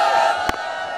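Large crowd at a packed cricket stadium with a DJ playing, a broad sustained roar of cheering heard from a distance, broken by a brief sharp crack near the middle.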